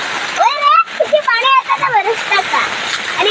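Heavy monsoon rainwater rushes and splashes in a steady broadband wash, with several people talking loudly over it throughout.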